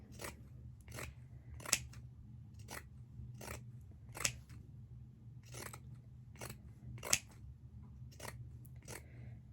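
Pinking shears trim double-layer fleece in a steady series of about fourteen crisp, close snips, evenly spaced, with a low background hum and no talking.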